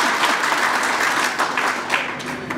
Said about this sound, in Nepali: अघिभन्दा ठुलो ताली बजेन नि